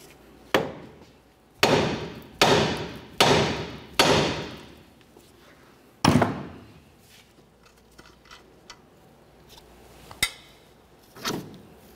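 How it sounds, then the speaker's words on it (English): A hammer strikes a steering knuckle on a 2004–2006 Scion xB to shake the tie rod end stud loose, giving a run of loud, ringing metallic blows followed by lighter, scattered taps. "cause some vibration to try to break the tie rod end stud free from the knuckle"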